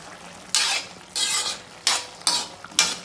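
A spoon stirs potato pepper fry in a pan, with five scraping, sizzling strokes at uneven intervals, close and fairly loud, over a soft background of frying.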